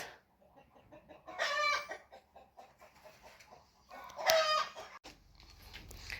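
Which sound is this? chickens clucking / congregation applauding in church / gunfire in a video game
chickens clucking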